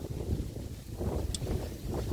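Steady wind buffeting an outdoor microphone, a constant low rumble and roar with no break, loud and close.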